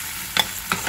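Masala spice paste fries in a pan, with two brief scraping bursts of stirring rising over a faint, steady sizzle.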